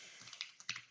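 Computer keyboard typing during a programming session, a quick run of light, irregular key clicks close up and fairly quiet, with no talk.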